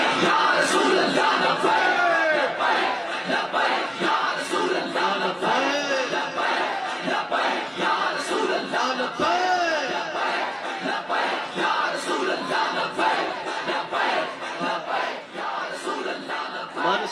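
A large crowd at a religious gathering chants the slogan Labbaik in unison, with rhythmic loud massed voices rising and falling over many seconds.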